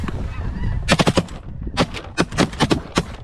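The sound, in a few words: shotgun shots fired at snow geese while hunting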